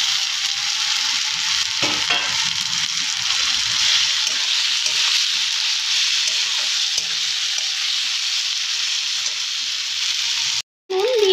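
Chopped tomatoes sizzle continuously in a hot pan with a steady bright hiss and occasional stirring, close and loud throughout, with a brief break near the end.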